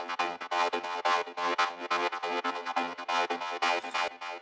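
An acid synth line built from a Spire bass sequence plays on its own, in short, bright, resonant staccato stabs with a choppy, rhythmic pulse and no voices.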